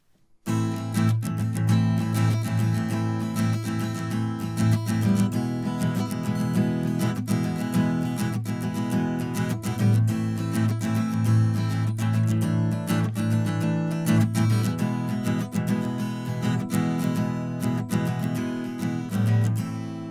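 Acoustic guitar strummed and picked with a microphone placed where the neck joins the body, a bright, steady run of chords with a resonant low end, played alone for about twenty seconds.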